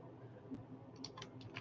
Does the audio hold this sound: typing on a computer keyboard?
yes